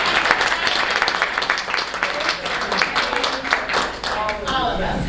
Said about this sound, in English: can I actually get a round of applause too from Ms. Sauerstein?